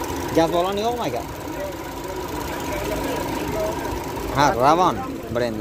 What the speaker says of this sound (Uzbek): Motor ovozlarini eshitib turibmiz.